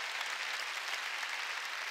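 Steady applause from a congregation during a New Year's Eve church worship service, a dense continuous patter of many hands clapping at moderate level from start to finish.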